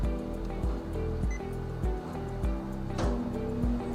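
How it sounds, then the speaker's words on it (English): A vacuum bed engages on a VELOX NuCut 6090F cutter to hold film down, giving a steady low hum with repeated soft mechanical pulses and a brief whooshing surge midway, close and continuous with no talking. "That's the vacuum engaging,"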